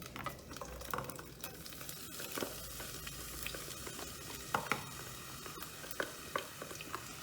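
Olive oil sizzles steadily in a pan as chopped onion fries, with occasional stirring scrapes and a few sharper crackles standing out near the end.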